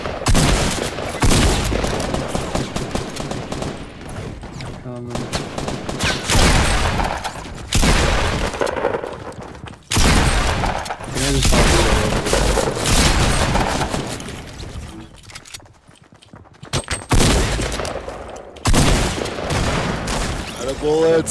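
Video game gunfire erupts in repeated rapid bursts and heavy volleys separated by short lulls, loud and close, with players talking in between.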